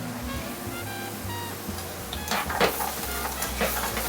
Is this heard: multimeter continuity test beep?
no